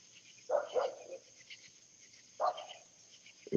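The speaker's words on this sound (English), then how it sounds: "that's who barking now." A working dog with strong drive barks in a few separate bursts: a double bark, a pause, then another, moderately close in a quiet outdoor setting.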